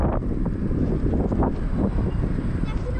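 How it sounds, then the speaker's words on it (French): Headwind gusting steadily across the microphone while bikepacking along a fairly busy road beside the Ottawa River, a loud, continuous low rumble and buffeting with no pauses. "on a le vent de face"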